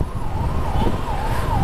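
An ambulance siren wails on a city commercial street, a steady undulating tone rising and falling in slow sweeps over low traffic rumble, fairly close and continuous.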